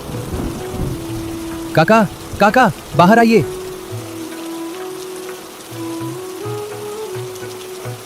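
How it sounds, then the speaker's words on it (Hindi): Heavy rain pours onto a muddy village road, a dense, steady hiss close by, with a few distant rumbles and someone calling out over the downpour. "लोग खिड़कियों से बारिश देख रहे थे।"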